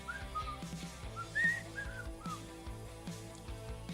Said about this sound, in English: In case you can't tell by my excellent whistling.